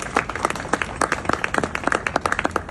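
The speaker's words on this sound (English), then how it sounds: "I think that deserves a round of applause." Audience applause at a diplomatic Bastille Day reception in Trinidad and Tobago, a dense run of claps sustained for a few seconds at steady strength, no voices over it.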